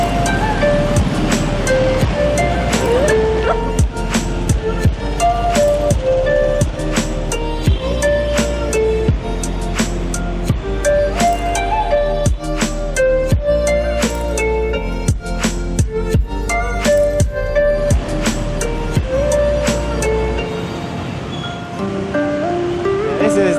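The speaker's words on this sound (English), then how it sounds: "This is the hustle and bustle of Ho Chi Minh." Busy Ho Chi Minh City street with a steady wash of motorbike traffic, engines and horns blending into a loud, continuous urban roar close by, with people talking nearby.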